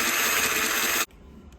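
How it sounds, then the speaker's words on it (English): Drill bores into the plastic housing of a Ninebot Bluetooth speaker, a loud steady grinding whir that runs for about a second before stopping abruptly, leaving near silence. "So now we're going to do some drilling. I drilled an initial hole and I'm just bringing it to the side."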